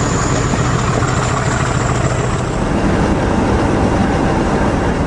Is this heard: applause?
no